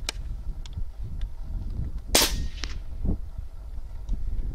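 Wrangler Phenom PCP air rifle firing through a moderator, one sharp, loud, close shot standing out from a quiet background, with a few faint clicks before and after.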